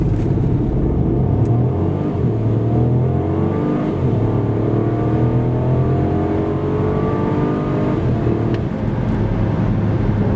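A Ford Puma 1.0 EcoBoost three-cylinder petrol engine accelerates with a rising, slightly gruff drone heard from inside, climbing steadily through the gears over a continuous road roar.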